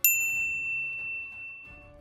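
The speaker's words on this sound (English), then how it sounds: "ring the bell to get notified about our latest videos" A single bright notification bell dings loudly at the start, then its clear metallic tone rings on and slowly fades over a soft low background.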